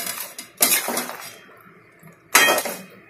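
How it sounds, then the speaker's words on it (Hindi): Sweet mathri dough ingredients with cardamom being mixed in a bowl in a home kitchen, giving two loud bursts of clattering and scraping with a quieter stretch of stirring between them, with no talking. "और इसे मिक्स करना है अच्छी तरह।"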